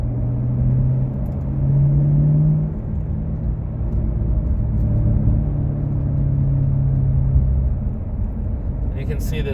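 Corvette C7 Grand Sport cruising a twisty shoreline road, a low steady engine rumble and road drone from inside the cabin with mild swells in revs, a voice talking over it throughout.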